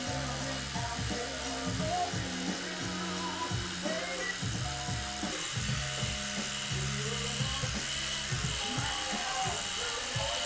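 Electric clippers buzz steadily while shaving a head, a continuous close motor hum that shifts as the blades move, with people talking throughout.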